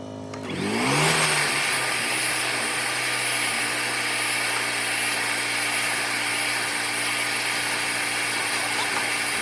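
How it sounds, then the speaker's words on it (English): A water extractor spins up and then holds a steady, loud, droning whine while it cleans the carpet of an old, dirty car, running continuously and close with no talking. "Then I go over it with the water extractor."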